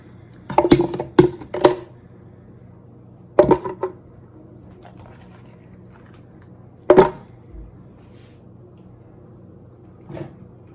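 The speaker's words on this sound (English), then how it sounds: "I'm starting with 2 frozen bananas and I'm just going to break them up before I put them into the blender." Frozen bananas snapped apart by hand in a kitchen before blending: a few sharp, close cracks in quick clusters, then isolated snaps several seconds apart, with quiet between.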